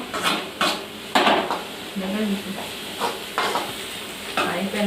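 Spice tempering with turmeric sizzles steadily in a pan while being stirred for Telangana-style chicken gudalu, with repeated scraping clinks of a spoon against metal at an irregular rhythm, close and fairly loud.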